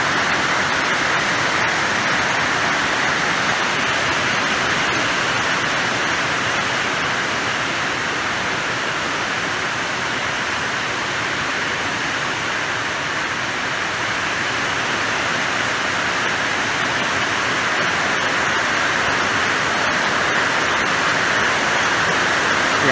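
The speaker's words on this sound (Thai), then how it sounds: "ฝน" Rain falls steadily and evenly for the whole stretch, a constant close hiss at a boat storage shed at Wat Sawang Suwannaram in Nakhon Phanom, with no talking.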